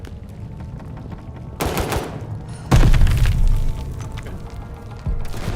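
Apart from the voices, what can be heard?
rapid pistol gunfire in video game Call of Duty: Vanguard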